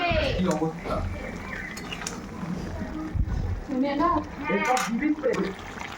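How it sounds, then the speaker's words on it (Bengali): Fried potatoes are added to a pan of chicken curry, producing close clatter and scraping of a utensil against the pan, interspersed with someone talking. "এবার দিয়ে দিব ভেজে রাখা আলুগুলো।"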